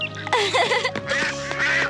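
Ducks quack loudly and close at a pond, a quick burst of several raspy calls one after another across the whole moment, with no talking.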